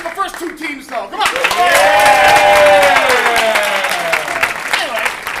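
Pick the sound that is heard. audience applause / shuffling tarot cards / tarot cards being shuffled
audience applause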